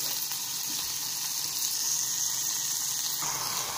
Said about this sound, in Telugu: కొంచెం టమాటాలు ఉల్లిపాయలు బాగా ఫ్రై అవ్వాలి.